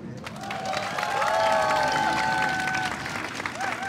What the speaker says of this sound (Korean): 박수 치지 마세요